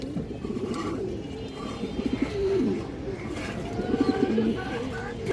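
Breeding and flying pigeons of the Palla line cooing close by, with repeated throaty coos in short bursts over a steady background murmur, while someone talks.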